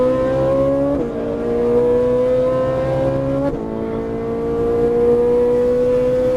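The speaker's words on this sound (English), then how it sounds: "Little brake, turn first, now accelerate." A Ferrari 458 Italia on track, its engine droning loud and near with steady rising pitch, a brief dip at a gear change, then climbing again under continuous throttle.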